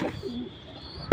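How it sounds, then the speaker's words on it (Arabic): Domestic pigeons of the Baladi breed give soft low cooing calls at close range, followed by a brief sharp rustle or knock at the end, with no talking. "ده حمام بارد عندي، ده من نوع حمام البارد."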